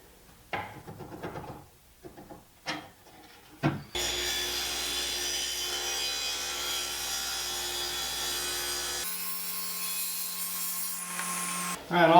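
Table saw cutting wood for a burl clock: a few short knocks and brief talk, then a loud, steady, droning whine from the running blade, which shifts pitch near the end.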